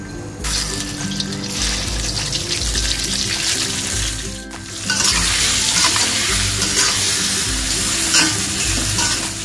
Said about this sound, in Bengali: চিংড়ি মাছটা ভেজে নেব।